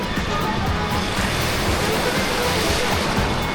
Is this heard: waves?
yes